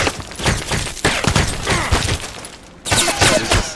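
Heavy gunfire in the video game Contract Wars hammers out as rapid, loud, close shots in dense bursts, pausing briefly before another volley resumes.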